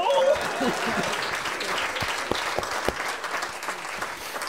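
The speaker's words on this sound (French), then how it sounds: "Applaudissez Serge Gercon" Audience applause at a Star Wars comedy night: a dense, steady wash of clapping from a live crowd lasting several seconds, fairly loud and close, fading slightly toward the end.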